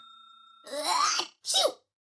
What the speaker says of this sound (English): Achoo.